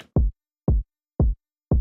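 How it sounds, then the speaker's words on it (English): A lone kick drum in a dance pop track thumps four times at an even, spaced pulse, each hit short, punchy and deep, with silence between beats and no other instruments. "And then just playing the kick."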